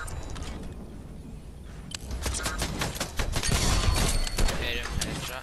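Gunfire in Fortnite comes as a fast run of sharp, close shots and bursts that grow louder partway through, layered over busy game noise.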